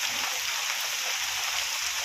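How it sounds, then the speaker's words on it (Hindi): Steady rain falls, a dense even hiss of drops on surfaces with a soft low patter underneath, no voices. "बारिश आते"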